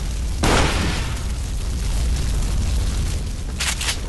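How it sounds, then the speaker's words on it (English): A fire extinguisher shot and exploding in Duke Nukem Forever: a sudden loud burst followed by a long roaring hiss, then another sharp pop near the end. "fire extinguishers can be shot without fire"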